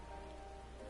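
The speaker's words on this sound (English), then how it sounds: "It's so hard to see in this rain." Rain falls steadily in the ruins of Ala Mhigo in Final Fantasy XIV, a soft continuous hiss of drops on surfaces, faint and even throughout, with no talking.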